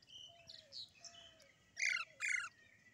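Parrots feeding on tomatoes chirp and tweet steadily at close range, then break into two louder, harsh squawking bursts near the end; no one speaks.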